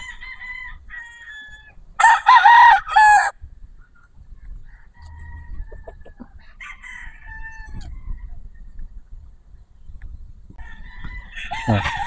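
A white Kelso gamefowl rooster crows once, loud and close, amid scattered clucks and other fowl calls, with faint background noise and a second burst of bird calls near the end.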